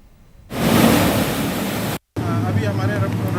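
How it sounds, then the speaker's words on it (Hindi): Floodwater carrying boulders rushes over a highway causeway in Uttarakhand, a loud, dense, continuous roar of churning water, with a voice speaking over it in the later part. "पानी और बोल्डर पत्थरों के सैलाब ने वाहनों की रफ्तार को रोक दिया है।"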